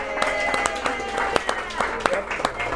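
A crowd in a sports bar applauds and claps in a dense, steady patter with sharper individual claps popping through, while people talk over the noise.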